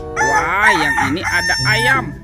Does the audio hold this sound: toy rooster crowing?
yes